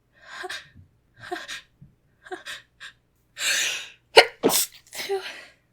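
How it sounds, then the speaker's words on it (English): A person gives several breathy gasps building up, then lets out a sharp, loud sneeze followed by quick aftershock breaths, all close and isolated. "I feel a sneeze."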